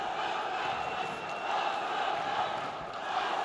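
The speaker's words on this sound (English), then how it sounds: "The crowd though now starting to raise the spirits, raise the roof here in the Basket Hall Arena" Arena crowd at an MMA fight in the Basket Hall Arena roaring and cheering, a dense continuous wash of distant voices that swells slightly partway through.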